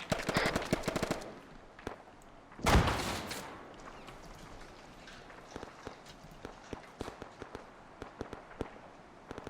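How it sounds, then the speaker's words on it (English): Gunfire rings out in an Arma 3 military simulation. A loud rapid automatic burst opens, a single heavy shot cracks soon after, and fainter scattered shots and footsteps continue at a distance. "we're taking shots"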